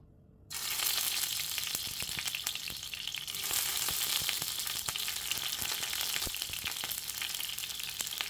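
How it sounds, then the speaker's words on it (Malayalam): Garlic dropped into hot sunflower oil in a pan for a restaurant-style chutney, bursting into a loud, close sizzle that keeps frying steadily with occasional stirring scrapes and no talking. "ഇതിലേക്ക് നമുക്ക് ആദ്യം തന്നെ വെളുത്തുള്ളി എല്ലാം ഒന്ന് ഇട്ട് കൊടുക്കാം."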